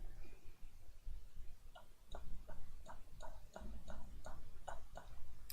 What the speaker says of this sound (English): So there's a glottic kind of a popping sound.